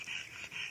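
A puppy pants softly in quick, rhythmic breaths, close by, with no talking over it.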